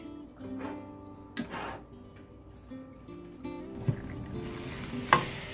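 Egg and potato sabji cooking in a covered pan on low-medium heat, giving a soft sizzle punctuated by a few sharp clinks and taps of the lid or utensils, with no voices.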